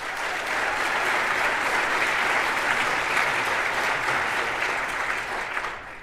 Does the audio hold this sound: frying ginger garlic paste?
no